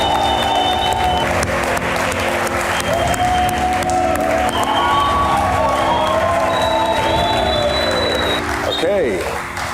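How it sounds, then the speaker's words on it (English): A studio audience at a televised quiz show gives loud, sustained applause and cheers to welcome eleven contestants, while bright music with rising tones plays over the clapping throughout. "With a loud round of applause, please welcome our 11 contestants."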